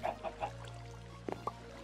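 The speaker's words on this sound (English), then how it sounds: "I don't think I can handle all the chickens" Chickens in the modded Minecraft pack Sky Factory 3 with Pam's HarvestCraft give a few short clucks, clustered at the start and again near the end over a steady low game hum.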